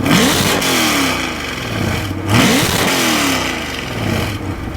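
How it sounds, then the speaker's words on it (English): A 2020 Chevrolet C8 Corvette with a 6.2-liter V8 and Chevy's optional performance exhaust revs hard several times, rising and falling in loud, close, throaty bursts with no talking. "the owner of this car actually has equipped the Chevy's performance exhaust"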